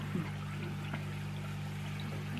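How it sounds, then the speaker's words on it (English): A cheap Christmas bath bomb fizzes steadily in bathwater with a soft, continuous hiss and faint bubbling, quiet and unbroken by voices. "It's really fizzing."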